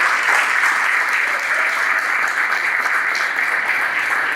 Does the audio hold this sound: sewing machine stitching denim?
no